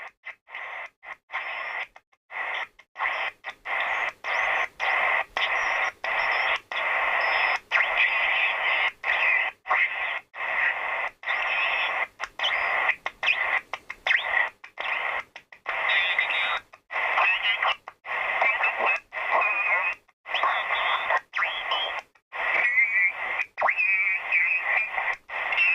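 A Sony ICF-SW55 shortwave radio sits off-station while slow tuning, producing loud continuous hiss and static that is repeatedly chopped by brief dropouts and clicks as the tuning steps, with no voices.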